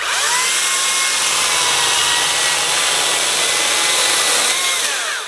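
A Makita 36V cordless chainsaw running on two 18V batteries, fitted with a 16-inch bar, cuts through wood at a Makita showroom. It is loud and close, a continuous high whine that rises and falls as it bites.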